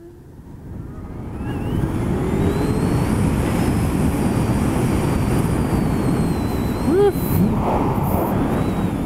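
A 2016 Zero SR electric motorcycle accelerating, a rising whine and rushing wind building over two seconds and then holding loud and steady, with a brief squeak near the end.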